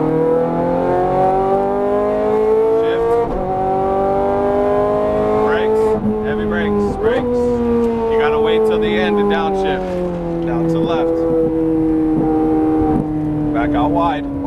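Ferrari F430 Scuderia driven around the Las Vegas Speedway track, its engine roaring loud and close with a high, steady drone that rises through acceleration and shifts pitch at gear changes, while someone speaks over it.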